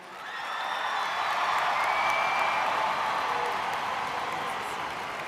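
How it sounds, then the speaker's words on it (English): Applause and cheering from a crowd at a 2016 high school graduation ceremony for Taylor High School, a broad steady wash of clapping with scattered whoops that swells and holds for several seconds before easing slightly. "one more round of applause for our graduates"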